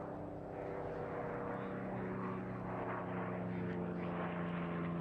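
A propeller-driven warbird fighter flies at the Eastbourne International Airshow, producing a steady, droning engine hum that holds at a moderate distance throughout.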